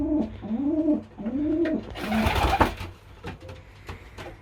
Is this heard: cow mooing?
no